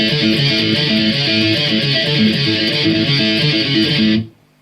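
An electric guitar riff full of hammer-ons and pull-offs, played loud and continuous with a quick melodic figure over a steady low part, cutting off sharply at the end.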